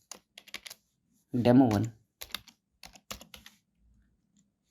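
Keys clatter on a computer keyboard while code is typed for a JavaScript lesson, coming in short irregular bursts of clicks, with one brief stretch of someone speaking partway through.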